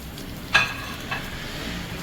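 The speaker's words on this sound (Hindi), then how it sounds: "पहले हम बिल्कुल नहीं चलाएंगे, हम इसे फ्राई होने देंगे" Korean chicken wings (dakgangjeong) deep-fry in hot oil with a steady, close hiss, broken by one brief sharp pop and a softer crackle.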